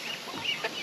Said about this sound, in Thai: ไก่มาเต็มหันแล้วพี่น้องนะ